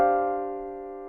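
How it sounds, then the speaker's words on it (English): A quartal chord built from stacked fourths, struck once on a keyboard-like instrument and left ringing with a clean, sustained tone that fades slowly over about a second, alone without talk. "So quartal chords are chords that are based on a stack of fourths."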